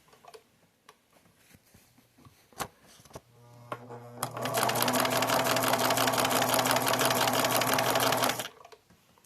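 Swiss-made 1950s Bernina 534 sewing machine running a straight stitch, with a few clicks of setup before a fast, steady mechanical whir and rapid ticking that holds loudly for several seconds, then stops abruptly.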